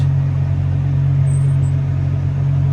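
Road roller machines idle steadily with a low, constant engine drone and rumble, no voices.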